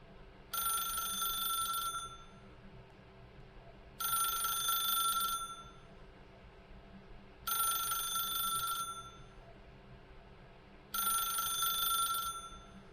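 A telephone ringing in the game The Stanley Parable Ultra Deluxe, four loud, evenly spaced bell rings, each about a second and a half long, separated by short pauses over a low background hum.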